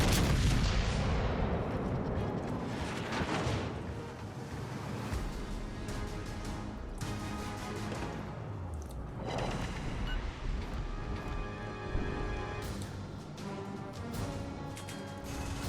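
Battleship main guns firing in a naval video game, with heavy booming salvos, the loudest at the start, and several more blasts rolling in over a constant sea-and-engine rumble; no voices.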